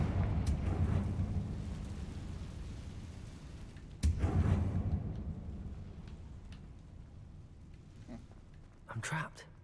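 A Confringo blasting spell goes off in Hogwarts Legacy as two heavy booming blasts with deep rumbling tails that slowly decay. A short voice is heard near the end.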